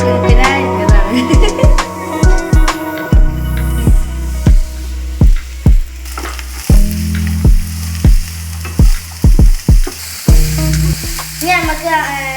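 Garlic and green chilli sizzle steadily in a hot pan for macaroni, with a constant frying hiss broken by repeated sharp stirring scrapes and clacks of a utensil against the pan, close and loud, no talking.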